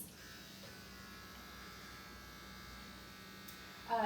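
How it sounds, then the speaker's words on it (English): Electric hair trimmer buzzing steadily and close while cleaning up the edges of a haircut, a continuous even drone with no talk over it. "I just go in with my trimmer and then I clean up the edges"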